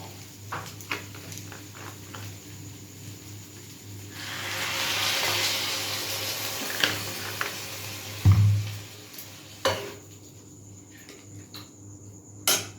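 Potatoes sizzle in a frying pan in a home kitchen, a steady low hiss swelling louder for a few seconds in the middle, with a constant electrical hum beneath and occasional clinks near the end.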